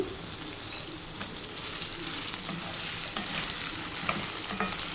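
Cut pieces of raw banana fry in an oiled pan for a crispy banana fry. A dense, continuous sizzle is heard up close, with frequent spatula scrapes and the crackle of stirring.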